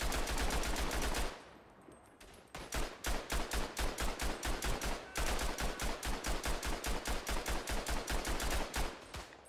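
Rapid automatic gunfire from a World War I shooter set at Tannenberg, loud evenly spaced shots in long steady bursts, one short volley followed by a brief pause and then sustained rhythmic firing.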